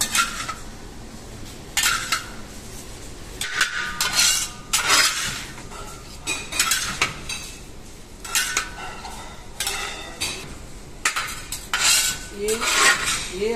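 Vegetable filling for spring rolls stirred in a pan, with a utensil repeatedly scraping and clinking against the metal in uneven bursts; fairly close, with no voices.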